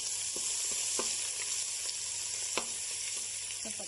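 Crushed ginger and garlic fry for chicken pickle in a pan, giving a steady, close sizzle broken by occasional light stirring clicks.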